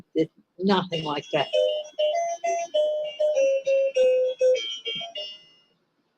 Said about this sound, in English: That is our doorbell ringer going off.